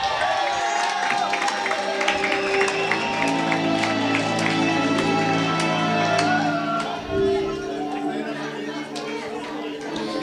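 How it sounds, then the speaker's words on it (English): Guests at a union merit awards gala dinner applaud amid loud crowd chatter and cheering, with tonal sounds layered on top. The mix stays full and lively, then eases slightly near the end. "Another round of applause for Nyanga branch"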